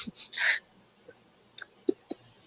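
A single quick human sneeze bursts out near the start, followed by faint breaths and small mouth noises in an otherwise quiet room.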